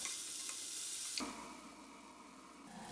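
Tomatoes cook down in a pan for a drumstick masala curry, producing a soft, steady sizzle with a faint stir or two, fairly quiet and without talking.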